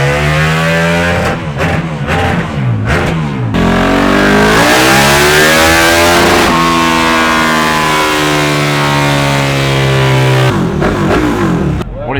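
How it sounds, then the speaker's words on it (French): A KTM Super Duke motorcycle revs hard on a trailer-mounted dyno bench in a parking lot, short throttle blips followed by a long sustained climb through the gears that drops back to idle, loud and close. "Là ils sont en train de passer sa Super Duke"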